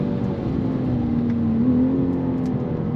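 A 2023 BMW M2 G87 accelerating hard on a track lap, its engine droning steadily and rising slightly in pitch, loud and close from inside the car, with no talk.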